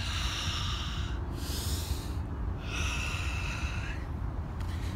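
Two slow, deep breaths come through a nose during a Tibetan rites exercise, each one a soft rushing hiss lasting about a second, heard close and alone with a short pause between them.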